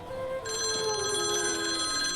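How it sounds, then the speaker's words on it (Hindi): A telephone in a public phone booth rings insistently, a bright electronic bell tone with layered harmonics that starts partway in and carries on loud and close to the end, no speech. "लेकिन फोन बजता रहा।"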